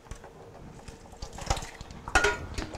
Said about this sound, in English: I'm going to add 2 cans of diced tomatoes.